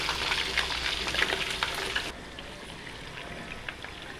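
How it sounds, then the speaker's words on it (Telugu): Chicken pieces deep-frying in hot oil until golden, giving a steady close crackling sizzle with dense popping that drops to a quieter, softer bubbling partway through. "డీప్ ఫ్రై చేసుకొని నీట్గా మన పకోడీలాగా కొంచెం గోల్డ్ కలర్ వచ్చేటప్పుడు"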